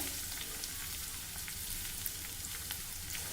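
Garlic and green chilli pieces frying in ghee for a khichdi tempering, a faint, even crackle and sizzle with scattered tiny pops and no voices.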